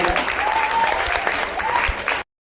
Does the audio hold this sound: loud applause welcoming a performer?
yes